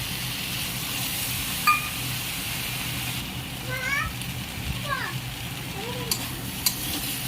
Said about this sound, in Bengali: এখন মশলাটা দিয়ে ভালো করে নাড়াচাড়া করে নেব, যাতে ভালোভাবে মিক্স হয়ে যায়